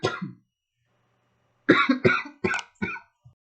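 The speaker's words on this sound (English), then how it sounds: "once my coughing fit was over" A person coughs in a fit: an opening double cough, a pause, then four harsh coughs in quick succession and a small final one, close and loud.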